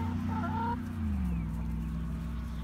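Two broody hens, a black hen and one called Jill, off their nests and clucking in a coop, with low throaty calls and a steady murmur of fowl sounds close by.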